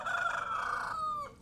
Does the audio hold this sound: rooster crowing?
yes